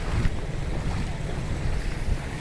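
Floodwater rushing hard through a canal, a dense, steady turbulent roar close to the microphone with wind buffeting mixed in.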